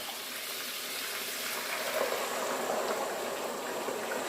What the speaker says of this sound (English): I am going to add 3 cups of water.